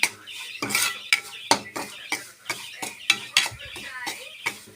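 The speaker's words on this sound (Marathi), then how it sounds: "याच्यामध्ये आपण हळद रवा मस्त भाजून घेऊ लालसर रंग येईपर्यंत भाजायचा" A spoon scrapes and clinks against a pan again and again while semolina and turmeric are dry-roasted, making close, bright, rhythmic strokes with short pauses between them.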